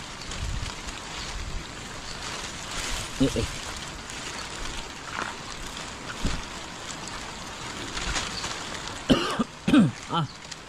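A few sharp coughs break out near the end over a murky background of running floodwater and wind at a farm hut, with muffled voices throughout.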